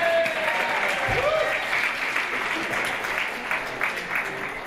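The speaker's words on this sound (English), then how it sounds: "Applaud." Studio audience applause from a game show final, a loud sustained clapping wash that holds steady throughout with no voices over it.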